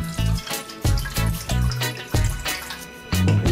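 About a cup of liquid is poured into a chilled mold for a frozen cake, a close splashing, gurgling pour that comes in several short bursts with brief pauses between them.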